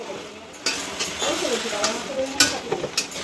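Roasted ground spice being stirred into a frying dish in a pan, with scraping and clinking of a spoon against the pan over a soft sizzle, and a voice talking intermittently.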